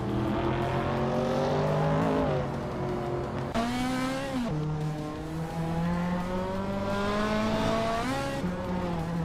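An Aston Martin race car engine in a racing video game, a loud continuous whine rising and falling through gear changes with several upshift dips, close and alone.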